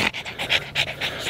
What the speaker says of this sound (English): The amount Sky is panting right now is going to be very reminiscent of me when I start doing cardio